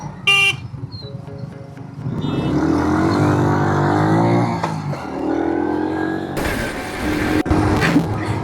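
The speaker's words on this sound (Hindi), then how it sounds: "यहाँ पर रेसिंग लगी हुई है गाड़ियों की" Cars race and rev hard on a road while pulling out to overtake a slow truck, engines rising and falling up close, with a short horn blast and wind rush from a moving motorcycle.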